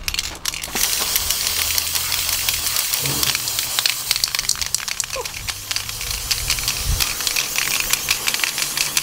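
An aerosol can of black spray paint hisses up close in long continuous bursts, with a few clicks and rattles between sprays.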